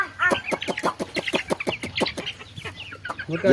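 Chickens cluck in a rapid, steady run of short calls close by, with pigeons feeding in the same spot; no one speaks over the flock.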